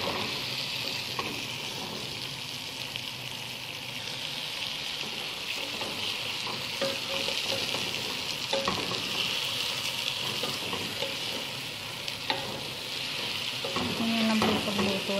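Chicken pieces for chicken salona frying in a pan, a steady broadband sizzle with occasional stirring clatter throughout, moderately loud and continuous with no voices.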